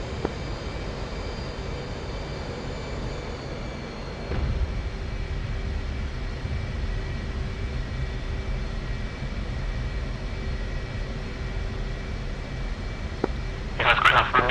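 An F/A-18C jet taxiing in the DCS flight simulator, a steady droning engine whine with high tonal hum held throughout, a brief bump midway and a short rattling burst near the end.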